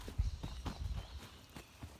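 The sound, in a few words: horse hooves clip-clopping on a trail ride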